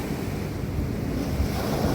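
Ocean surf rolls in steadily off the coast of Nusa Penida, a broad continuous wash of breaking waves with wind buffeting the microphone, no voices.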